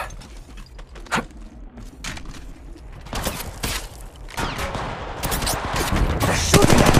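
Gunfire in Apex Legends Mobile, with dense rapid shots and bursts building over several seconds, close and loud, layered with game effects and no talk.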